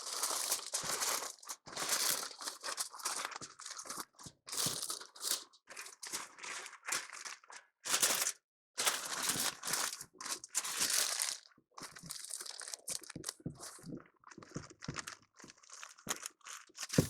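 Aluminium foil being handled and wrapped around a smoked prime grade beef shank, giving close, continuous crinkling and crumpling in bursts with brief pauses, moderately quiet.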